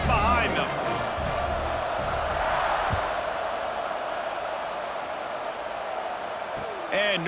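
A football stadium crowd roars steadily before kickoff, a broad sustained wash of cheering and noise under a commentator's voice.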